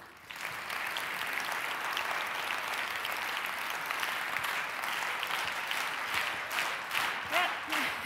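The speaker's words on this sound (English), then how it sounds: "let's start clapping" An audience claps together in a hall, a dense, steady wash of many hands that carries on for several seconds before thinning into a few louder, scattered claps near the end.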